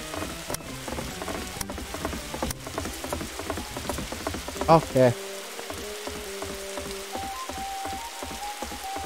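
Rain falling steadily in a Roblox horror game, a soft continuous patter running the whole way under people talking, with a short louder burst midway.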